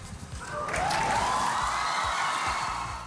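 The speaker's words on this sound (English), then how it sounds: "his proud family cheering him on from the gallery" A family cheers and applauds from the gallery at a spelling bee, a burst of clapping and crowd noise that swells after a brief moment and holds steady.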